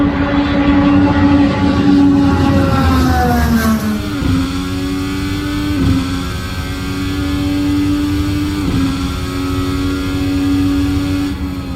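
Acura LMDh race car with a V6 engine revs hard to about 10,000 RPM, a loud, close, high-pitched wail with a falling pitch sweep and repeated rises as it shifts, steady and alone throughout.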